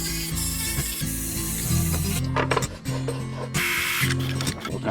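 Holes being enlarged by hand in a carbon fiber car interior part, rapid scraping and rasping strokes in an uneven rhythm, close and fairly loud, alone with no speech.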